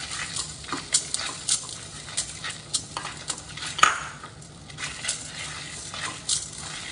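Onions and spices for a lentil-free tomato and onion sambar are stirred and fried in a pan. Rhythmic spoon scrapes and knocks sound close up over a low, steady sizzle, with no talking.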